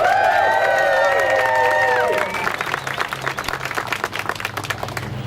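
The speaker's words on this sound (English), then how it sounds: "Please give her a round of applause" Applause from an audience at a legislative coalition event greets Senator Joyce Woodhouse, rising under a few whoops and cheers at first, then settling into brisk, steady clapping that carries to the end.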